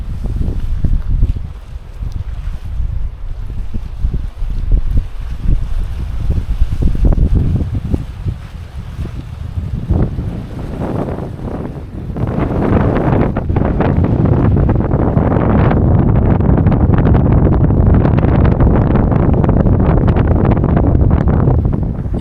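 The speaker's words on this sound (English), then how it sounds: "It's way too windy for that." Strong wind gusting at the Crater Lake shore, roaring and buffeting the microphone, easing briefly before building into a loud, sustained blast for the second half.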